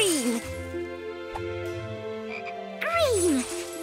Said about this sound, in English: Oh, and this frog.